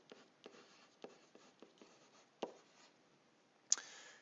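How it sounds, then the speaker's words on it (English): Pen writing notes on paper for a linear algebra lesson, a series of short scratchy strokes and taps with gaps between them, then a brighter squeak near the end, close and quiet. "I'm going to write a little bit more detail."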